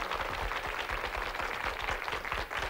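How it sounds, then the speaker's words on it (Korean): Studio audience applause during a televised health lecture on diabetes, a dense, even patter of many hands clapping together, loud and sustained throughout with no voices over it. "박수 청해서 들어볼까요?"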